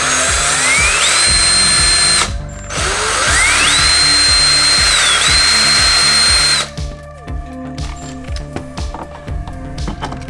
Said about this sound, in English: I'm gonna try to just drill a little bit in.